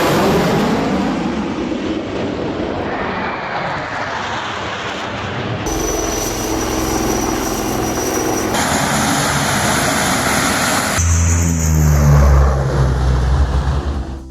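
Fighter jets practising over a new highway emergency landing facility at Moran, Assam, ahead of an air show, give a loud sustained roar that shifts abruptly between passes, the engine noise swelling heavier and deeper toward the end.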